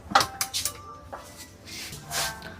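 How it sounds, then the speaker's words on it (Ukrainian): A press-open lid on a bathroom bin pops up with a quick, close plastic click, followed by a few lighter knocks and rattles in a quiet room. "Так натискаєте і кришка вистрибує"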